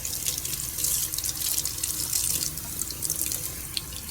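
Tap water runs steadily into a kitchen sink while broccoli is washed under it, a continuous close hiss and splash with no voices.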